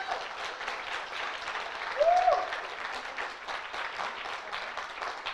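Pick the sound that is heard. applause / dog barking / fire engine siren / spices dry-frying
applause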